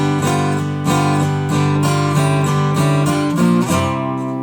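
Electric or acoustic guitar slowly playing a riff with a barred chord moving up toward the fourth-position chord, sustained ringing strums in a steady unhurried rhythm, close and clear with no talking.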